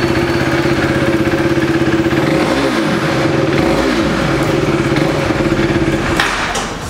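A loud KTM RC 390 motorcycle engine with stock exhaust idles steadily, with a couple of brief revs blipping up in the middle before settling back to a rumbling idle.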